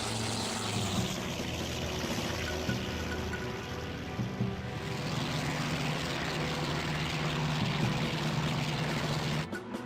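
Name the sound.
aircraft engine throttling up, IL-2 1946 video game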